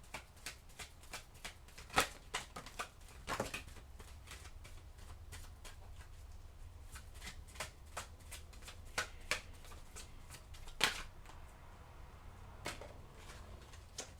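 Tarot cards being shuffled by hand, a long run of soft papery riffles and sharp slaps of the deck, irregular and close, in a quiet room.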